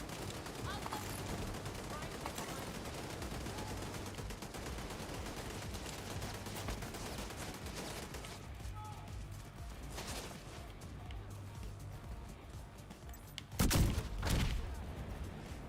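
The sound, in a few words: gunfire in the video game The Division 2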